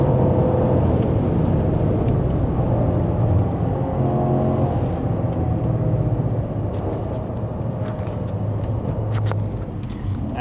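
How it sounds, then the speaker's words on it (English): An old Porsche Panamera with a modified sport exhaust idles and revs nearby, a loud, throaty drone with rising and falling tones throughout. "he modified the exhaust a little bit, and so the sport exhaust is even a bit louder"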